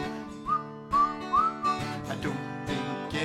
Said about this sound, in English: So I whistle as I clean, till I'm clean as a whistle